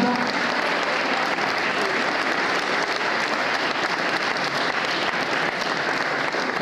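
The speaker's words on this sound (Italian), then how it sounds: "Un applauso al neo presidente riconfermato dell'Opera del Duomo" An audience at an Italian national unity day ceremony applauds the reconfirmed president of the Opera del Duomo, with steady, loud, dense clapping that runs unbroken throughout.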